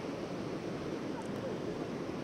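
Roaring water of Hukou Waterfall on the Yellow River in winter, a steady, dense broadband rush that holds constant without pauses, heard alone with no talk.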